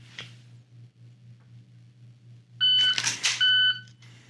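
An electronic shot timer buzzer gives a short beep, then a longer, louder tonal buzz later during a pistol reload drill, over a faint steady low hum.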